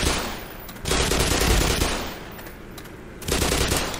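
Rapid automatic gunfire from Black Mesa shooting headcrabs, two long loud bursts separated by a short pause, close and harsh with no talking.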